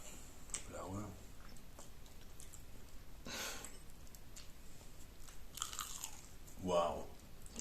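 Crunchy paprika rings are bitten and chewed up close in several sharp crunches spread through the clip, with quiet voices between bites.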